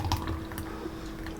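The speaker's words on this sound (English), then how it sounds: "we'll go ahead and we'll pour it in there" Thick frozen hot chocolate is poured into a glass, giving soft wet glugs and drips with a faint slushy squish, close and fairly quiet.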